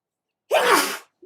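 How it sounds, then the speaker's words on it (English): A single sharp sneeze bursts out close to the mic after a moment of silence, followed by a tiny short sound just after. "And now I'm sneezing."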